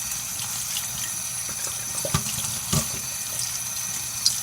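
Tap water runs steadily over sea moss as it is rinsed. The flow is a constant close hiss with small splashes and knocks.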